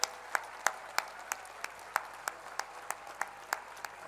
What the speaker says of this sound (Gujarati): નિરંતર 30 સેકન્ડ સુધી તાળીઓ પડવી જોઈએ સાહેબ